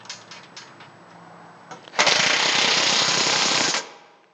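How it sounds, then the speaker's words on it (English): Ratcheting tightening of 1/2-inch bolts and flange nuts on a Victory 4x4 gas tank skid plate for a Toyota Tacoma: a few faint clicks, then a loud, continuous rapid mechanical rattle for about two seconds before it stops abruptly. "Go ahead and install that with another 1/2" flange nut now, and you can tighten this all the way down."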